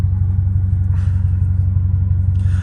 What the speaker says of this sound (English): Oh, dude, the downshifts are so nasty. The downshifts are so freaking nasty.